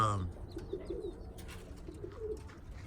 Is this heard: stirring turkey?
no